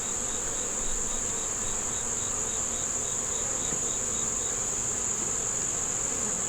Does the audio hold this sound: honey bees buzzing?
yes